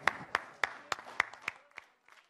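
Applause at a music show as a performer is welcomed: about nine sharp hand claps in an even beat, faint and thin, fading away toward the end.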